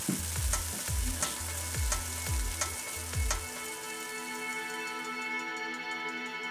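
Steaks hit a hot pan and sizzle loudly, with several sharp clatters of handling and low thumps early on, then a steady, even frying hiss that carries on alone.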